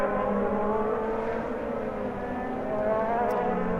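Race cars on the front straight of the 2018 Indianapolis Grand Prix, a loud sustained engine drone with whining high-revving tones holding steady as the pack streams past the yard of bricks.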